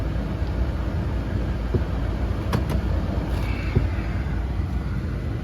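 Steady, loud airy whoosh of the HVAC blower motor running inside a 2003 Dodge Grand Caravan, a constant broadband roar with a few faint clicks, no talking over it.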